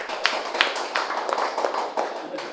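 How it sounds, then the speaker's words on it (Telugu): An audience at a PMC promotional gathering in Hyderabad claps for a couple of seconds, giving a dense patter of irregular, fairly close hand claps with a few sharper, louder strikes standing out, and no talking over it. "ఎవరెవరైతే సపోర్ట్ చేశారో వాళ్ళందరికీ గట్టిగా చప్పట్లు కొడదాం."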